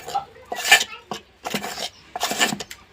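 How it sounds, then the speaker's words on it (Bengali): Batter for spicy-sweet patishapta gets mixed in a bowl: several bursts of utensil clinking and scraping against the dish, close and fairly loud, separated by short pauses with no talk. "আমি মিক্স করে নেব।"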